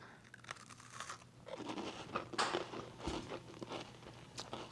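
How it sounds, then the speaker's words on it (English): Crunchy bites and chewing on a cinnamon sugar cookie with a slightly crisp outside and a soft, chewy inside, heard up close as repeated crackly crunches and mouth sounds with no talking. "The outside is a little crunchy, but the inside is soft and chewy."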